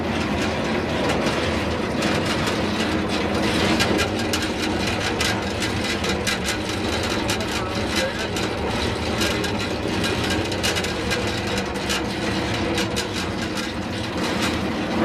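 A Carter Day 2133 disc separator runs with a dense, steady mechanical roar and fast rattling clatter, loud and continuous throughout, with no voices.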